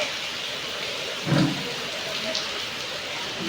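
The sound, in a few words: rain falling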